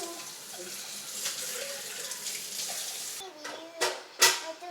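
Water runs from a tap into a sink while utensils are washed up after making whipped coffee, a steady rush with a few clinks and splashes near the end, with faint talk in the background.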